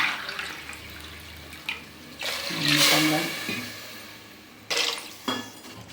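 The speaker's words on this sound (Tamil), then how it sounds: "ஒன்றுக்கு 2 தண்ணி தான் ஊற்றணும்." Water poured into rice and dal for cooking, splashing in short uneven bursts with light clinks of a pot, some quiet speech between pours.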